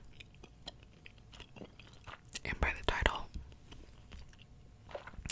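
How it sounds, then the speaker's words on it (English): Gum being chewed close to the mic during a quiet nighttime ASMR routine, with soft wet chewing and smacking sounds mixed among whispered talk and brief louder handling noises. "I hope you're not repulsed by the sound of gum chewing, because I'm gonna do that in this video"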